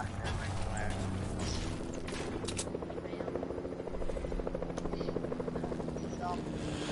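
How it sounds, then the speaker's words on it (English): A helicopter in the battle royale game Fortnite, a loud continuous rotor thump and whine that holds steady throughout with no talk. "I'm getting the, this chopper already"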